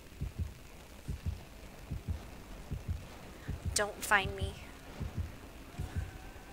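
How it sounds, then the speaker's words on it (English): The heartbeat of a nurse enemy in a horror video game thuds in a steady, low double-beat rhythm throughout, with a shrill shriek-like cry in the middle and a person talking over it. "I hear her stupid heart beating."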